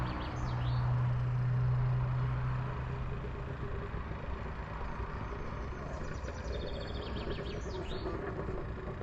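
A bird calls near a fishing spot in the Netherlands, a few short chirps rising out of steady outdoor noise, one early and a cluster later, with a low tone briefly humming underneath.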